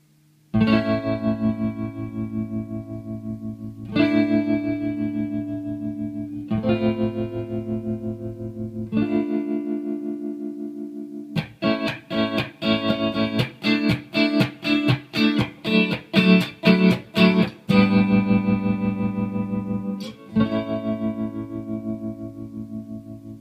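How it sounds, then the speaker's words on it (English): Sustained synth-like tones from a Moogerfooger ring modulator with a pulsing tremolo that quickens into a rapid choppy stutter, then settles back to steady held notes; loud, no talk. "you should hear like that tremolo effect's now getting faster"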